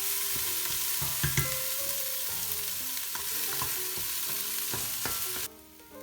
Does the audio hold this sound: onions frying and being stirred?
yes